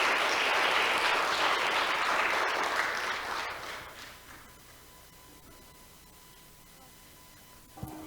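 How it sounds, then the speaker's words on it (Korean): Audience applause at a Korean community stage event swells loudly for several seconds, then fades away into quiet room tone, with a single small knock near the end. "다시 한번 좀 격려의 박수 부탁드립니다"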